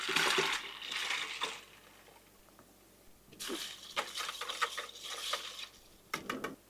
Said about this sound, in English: Then I'm going to add 2 quarts of ice water.